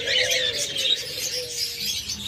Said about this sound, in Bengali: চমৎকার ডায়মন্ড ঘুঘুগুলা একদম ডিম পাড়া পাত্রে বসে আছে